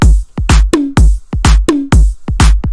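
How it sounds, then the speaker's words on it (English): Punchy electronic drum loop for a Martin Garrix and Mesto Limitless drop remake: booming kicks, sharp claps and a few pitched toms in a tight repeating rhythm, loud and dry with nothing else. "this is how the drums sound all on their own"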